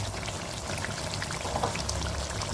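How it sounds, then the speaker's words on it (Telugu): Water pours in a continuous close gush into a pan of chicken curry gravy with cooked tomatoes, keeping a steady, even level. "గ్రేవీకి సరిపడా నీళ్ళు పోసుకోవాలి"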